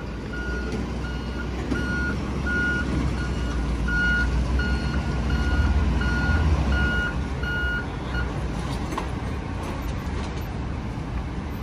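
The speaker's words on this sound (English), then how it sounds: "So they put the hooks on, they yank the car into position." An NYPD tow truck sounds steady, evenly spaced reversing beeps while hooking and pulling an illegally parked car near a fire hydrant, over a loud diesel engine idle and street traffic rumble.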